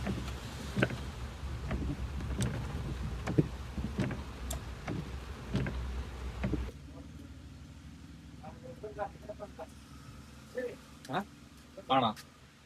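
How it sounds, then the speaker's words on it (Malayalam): Heavy rain pours onto a car during a drive with a broken wiper, a dense drumming wash with scattered sharp drop hits that suddenly drops to a quieter hush, where brief voices and knocks stand out. "വീണ്ടും മഴ കൂടിയിട്ടോ."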